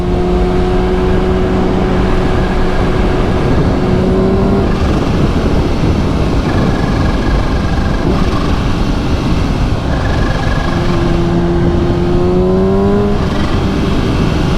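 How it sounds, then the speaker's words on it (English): A supercharged Kawasaki Ninja H2 motorcycle engine pulls hard on a street, loud and close, its tone rising through gears in repeated sweeps with brief shifts between surges and no talk. "once you start to build some boost in this engine, this bike really takes off"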